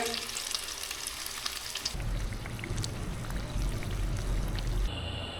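Mughlai paratha fries in hot oil with a constant crackling sizzle, growing fuller and denser once the paratha settles in, heard up close in a home kitchen.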